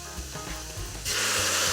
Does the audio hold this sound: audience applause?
no